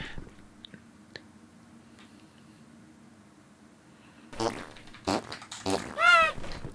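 A fart sounds in a few short, wet, sputtering bursts near the end, with brief vocal noises around them, after a long quiet stretch.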